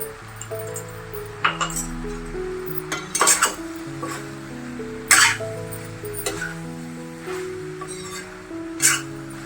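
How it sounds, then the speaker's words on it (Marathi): Clinks and scrapes of a spoon stirring lablab bean and potato sabji in a pan, with a steady gentle sizzle underneath and several sharp metallic knocks against the pan. "चांगली भाजी हलवून घ्यायची दोन मिनटं ही भाजी चांगली परतून घ्यायची"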